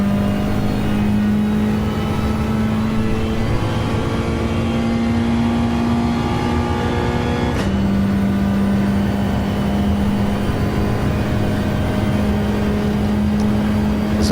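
Race car engine in a video game at the Fuji circuit, droning steadily at high revs through a gear, with a sharp shift partway through where the pitch drops and then climbs again; loud and continuous, no talk.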